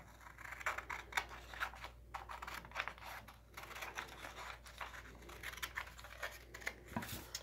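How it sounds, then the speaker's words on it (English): Repeated crisp snips and scratchy paper sounds, close up, in an uneven rhythm of short cuts with brief pauses. "So you can use scissors or anything else that you have."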